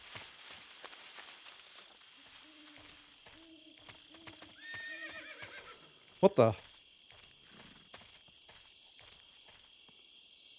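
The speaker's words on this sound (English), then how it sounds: "Why is there a horse here?" Horse neighing in the video game Metal Gear Solid 3, a couple of whinnies with clip-clopping hooves amid game ambience, a man briefly exclaiming over it.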